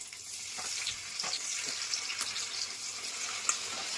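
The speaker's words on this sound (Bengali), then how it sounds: "চলো এবার সবজিগুলো তেলেতে দিয়ে দিলাম। ফার্স্টে বেগুনটা দিয়ে দিলাম" Vegetables, eggplant going in first, frying in hot oil: a dense, steady close sizzle with occasional stirring knocks and crackles throughout, no voices.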